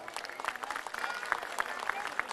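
Audience clapping at a Yörük folk music night in Dalaman, with Zeybek dancers and a davul-zurna ensemble, a dense, steady round of applause from a nearby crowd lasting throughout.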